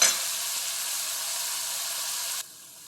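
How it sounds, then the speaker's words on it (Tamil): Onions sautéing in a pan for kara kuzhambu, a Tamil tamarind curry with brinjal and peanuts, give a steady broadband sizzle that runs loud and even, then drops abruptly to a quieter hiss near the end. "வெங்காயம் நல்லா வதங்கட்டும்"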